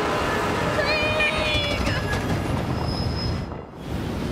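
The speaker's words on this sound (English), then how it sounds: "what in the hell was that noise? Demonic ass train." A train rumbles past in the video game Borderlands 3, a loud, continuous mechanical roar with squealing metallic whines layered on top, fading briefly near the end, while a person talks over it.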